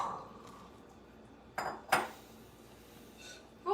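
A bowl is pulled from a kitchen cupboard, giving a few sharp clinks and knocks of dishes against one another, spaced irregularly over quiet room tone with no talk.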